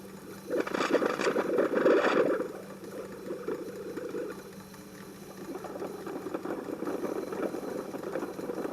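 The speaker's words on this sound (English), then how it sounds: "That's the sound of the stainless wire moving through the head." Stainless wire feeding through the head of a workshop machine, a steady mechanical whir with a louder burst early on and irregular knocking under it.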